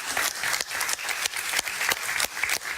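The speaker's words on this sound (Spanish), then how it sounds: "Un aplauso para ella, por favor." Studio audience applauding a woman being welcomed on a Spanish-language news talk show, loud dense clapping in bursts that swell and dip, close and filling the room, no voices over it.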